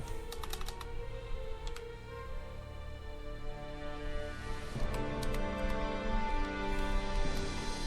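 Keyboard typing at close range while entering a gift code in the mobile collectible RPG Among Gods, a steady run of soft clicks over game music, with a brief pause midway.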